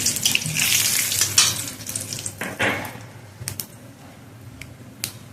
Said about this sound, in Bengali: এবার ওই তেলে দিয়ে দিচ্ছি ফোড়ন গোটা জিরে তেজপাতা শুকো লঙ্কা আর গোটা গরম মশলা এলাচ আর দারচিনি